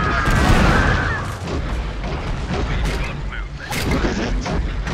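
Troops fire weapons in the Men of War Assault Squad 2 strategy game, with booms and bursts of gunfire layered over a dense, loud battle din, while a voice talks over it.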